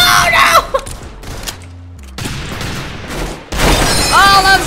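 Gunfire in the Roblox game Arsenal, broken bursts with booming impacts and chaotic effects, fairly loud, with a lull midway before a dense burst and squealing tones at the end.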